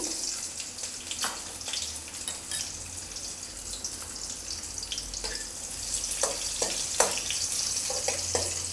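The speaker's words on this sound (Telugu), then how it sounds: "కొద్దిగా జీరా అలాగే కొద్దిగా ఆవాలండి ఇందులోనే కొన్ని ఆనియన్స్ను ఒక రెండు మూడు పచ్చిమిర్చి ఇలా వేసానండి" Cumin, mustard seeds, onions and green chillies frying in hot oil in a pan for egg fried rice: a steady soft sizzle with occasional light clinks and stirring, quiet and close, no talking.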